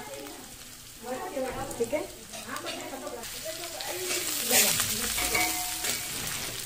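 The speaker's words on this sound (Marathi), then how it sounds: "बघा तेलामध्ये मी लसूण टाकलंय" Garlic frying in hot oil in a home kitchen, a steady close sizzle with occasional stirring, while someone talks over it through most of the clip.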